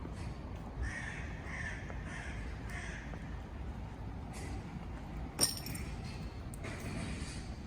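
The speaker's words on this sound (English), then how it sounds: "This crow is different. It's black and white." Caws from a black-and-white crow in a Berlin street, several harsh calls in the first few seconds over steady city traffic rumble, with a sharp clink midway.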